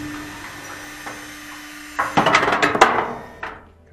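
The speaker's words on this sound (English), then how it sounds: "let's undo those screws" Screws are undone on a Frigidaire gas dryer: a low hum gives way to a close, loud cluster of metallic rattles and clanks, then a single knock, with no voices.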